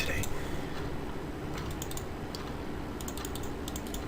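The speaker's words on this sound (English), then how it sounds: "I can't type today." Quick, fast typing on a computer keyboard during live day trading, a dense burst of close key clicks over a steady low background hum.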